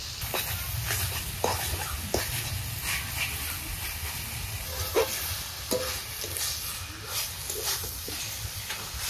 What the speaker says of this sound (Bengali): শাক ভাজা হয়ে গেছে, এখন নামিয়ে দিয়ে আরেকটা কড়াইতে মাছ ভাজবো।